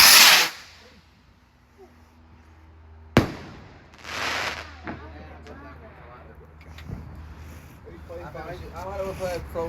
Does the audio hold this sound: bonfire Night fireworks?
yes